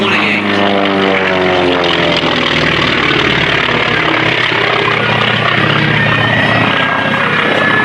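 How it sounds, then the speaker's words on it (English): A T-28 Trojan piston airplane makes a very low flyby at an air show, its loud propeller engine drone sweeping past with a falling pitch, close and overwhelming. "Joe Edwards down at gopher scaring altitude in the T-28."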